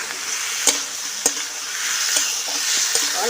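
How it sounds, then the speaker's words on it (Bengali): Ash gourd pieces frying in a pan, with a continuous close sizzle punctuated by a few sharp clicks from stirring. "কুমড়োটা আমি ভেজে দেবো।"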